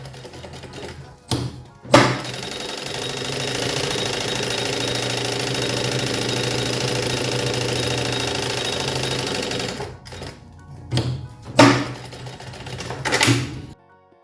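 A sewing machine runs a continuous safety seam around the edge of a child's fabric lunch bag, a steady rapid whirring burst of about eight seconds framed by short start-stop stitching runs.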